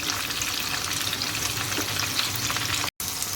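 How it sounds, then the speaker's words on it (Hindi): Tomatoes and onions fry loudly in a pan, a dense continuous sizzle close up, briefly cut off near the end. "यहाँ पे टमाटर प्याज जो हैं ये आप देख सकते हैं फ्राई हो चुके हैं"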